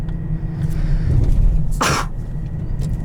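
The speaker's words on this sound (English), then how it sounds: "I'm going to sneeze at some point" A single sharp sneeze bursts out close by inside a 2021 Aston Martin DBX, brief and explosive, after a stretch of low rumbling background noise.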